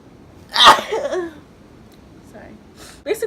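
One loud, close sneeze erupts, followed by a few breathy, throaty vocal noises and a short catch of breath near the end.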